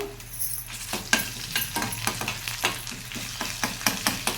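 Ginger garlic paste fries in a hot pan, a bright crackling sizzle pulsing with repeated stirring strokes in a steady rhythm, close and fairly loud.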